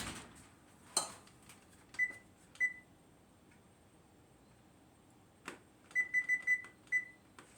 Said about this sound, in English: So I'm going to put these in the oven and set my timer.